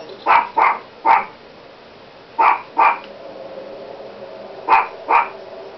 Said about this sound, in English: he's barking really loud.